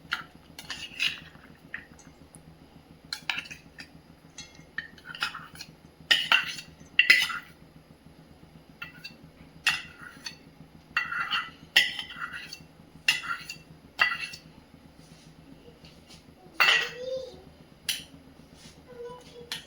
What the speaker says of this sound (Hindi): अब इस चना में एक मीडियम साइज का प्याज चॉप करके डाल रही हूँ